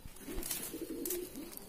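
Rampuri high-flying pigeons cooing in a low, steady murmur that continues under faint background noise, close by.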